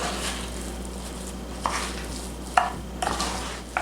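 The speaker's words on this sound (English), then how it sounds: "So I'm going to stir it just like this." Butter bubbling in a pan for old-fashioned stuffing, with a faint steady sizzle under a few distinct scrapes and clinks as a utensil stirs it.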